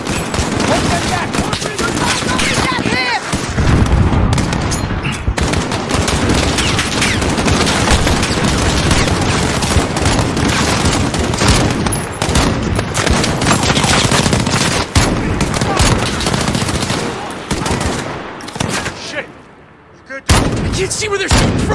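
Call of Duty Modern Warfare battle: sustained, loud gunfire with overlapping automatic bursts and heavy booming impacts runs almost unbroken. Voices shout over the din throughout, and the barrage thins briefly near the end.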